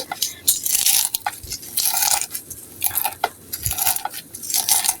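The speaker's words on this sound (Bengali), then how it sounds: "এই মরিচগুলি আমি সবগুলি এখন ভালো করে টেলে নিচ্ছি" Boiled tomatoes and dried chilies for bhorta being mashed by hand with salt, making repeated close, wet crushing and squelching bursts in an uneven rhythm, with occasional light knocks against a dish.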